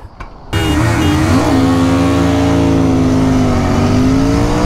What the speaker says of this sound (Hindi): तो एक बोल्डनेस साउंड, एक तगड़े बेस के साथ साउंड है, और ट्विन सिलेंडर होने की वजह से थोड़ी साउंड और तेज भी है।